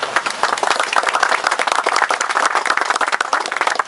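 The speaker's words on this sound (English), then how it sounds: "I think they should be given a round of applause because they've worked extremely hard." Dense, steady clapping from a crowd at the opening of a skatepark, a sustained round of applause with continuous rapid hand claps filling the whole stretch and no talk over it.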